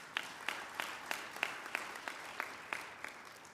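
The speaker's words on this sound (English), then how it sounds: "Shall we give the colleagues a round of applause?" A conference audience at a mining skills annual general meeting gives a sparse round of applause, individual claps landing in a loose, roughly regular rhythm, moderately near with no talking.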